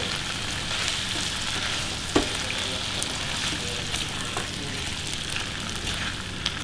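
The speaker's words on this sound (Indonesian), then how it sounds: "Setelah harum, masukin ucus. Kita aduk-aduk dulu." Chicken intestines stir-fried in a hot pan after aromatics, a dense, even sizzle throughout with a single sharp clack of the spatula and a few faint scraping touches.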